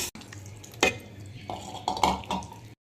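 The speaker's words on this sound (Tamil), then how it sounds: "இதெல்லாம் சேர்ந்து ஒன்றா கலந்து விட்டுக்கலாம்." A spoon scrapes and clinks against a bowl while ground spices, asafoetida and palm sugar are stirred together for a puliyodharai-style aval upma, several close, short bursts of metallic scraping with no talk.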